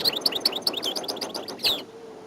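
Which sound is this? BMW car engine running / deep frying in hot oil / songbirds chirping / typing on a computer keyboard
songbirds chirping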